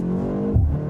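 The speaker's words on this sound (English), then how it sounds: "And I also like the burbles and slight pops from the exhaust." Exhaust of a BMW M235 Gran Coupe with a turbocharged four-cylinder gives a short, close burble and low thump as the engine note drops, heard alone over about a second.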